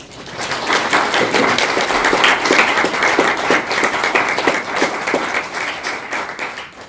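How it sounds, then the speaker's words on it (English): Sustained audience applause fills the room at the close of a Q&A session, a dense, steady clatter of many hands that rises quickly and holds at an even, fairly loud level throughout. "Please join me in a round of applause."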